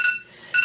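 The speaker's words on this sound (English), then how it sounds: "And that's my alarm, of course." A short electronic phone tone sounds twice, steady high-pitched beeps with a brief gap between them.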